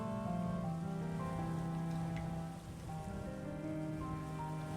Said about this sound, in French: Là, il commence à pleuvoir.